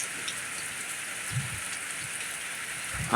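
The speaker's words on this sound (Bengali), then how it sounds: "মোটামুটিভাবে ভালোই বৃষ্টি হচ্ছে" Steady rainfall in a rural area of Nandail, Mymensingh, Bangladesh, an even hiss of drops on surfaces with a few soft low thumps, fairly quiet and continuous, with no voices.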